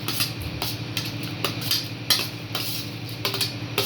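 Onion, tomato and dried red chilli tipped into a pot of dal sambar after tamarind water is poured, bringing repeated metal clinks and scrapes of a spoon against the pot over a soft background hiss.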